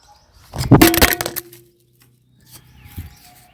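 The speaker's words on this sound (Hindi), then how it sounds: "मेरा मोबाइल धड़ाम से नीचे गिर गया।" A mobile phone drops onto the floor with a sharp clattering bang followed by a brief rattle, then a quieter thump and faint settling sounds a couple of seconds later in an otherwise quiet indoor space.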